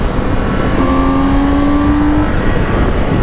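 A loud Honda Goldwing motorcycle engine drones close by while a steady whine rises slightly in pitch; the running vehicle fills the whole stretch.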